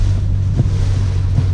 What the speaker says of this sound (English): I can already feel how windy it is